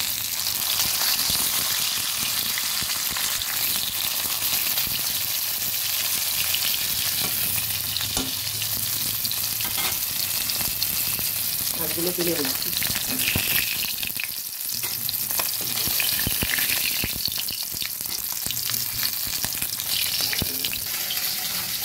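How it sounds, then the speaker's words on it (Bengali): Katla fish pieces sizzle and crackle in hot oil in a wok, a dense, continuous frying hiss with occasional turning sounds, while a voice talks briefly over it. "উল্টে পাল্টে মাছগুলোকে ভেজে নিয়েছি।"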